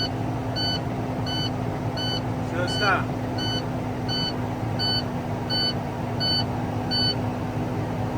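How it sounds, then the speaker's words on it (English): A warning buzzer in a CDL Class A truck tractor beeps in a steady, evenly spaced series as the air brake pressure builds, heard over a constant engine idle, with a brief spoken remark. "That beeping is irritating as hell."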